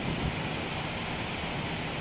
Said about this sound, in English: You can see the water cascading from down on top of that hill to the river over here.